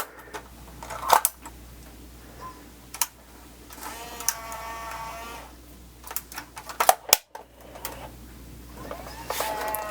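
A Sony DCR-TRV480 camcorder is handled close up, with soft clicks, a mechanical whir of the tape compartment and sharp snaps as a cassette goes in, all faint and alone.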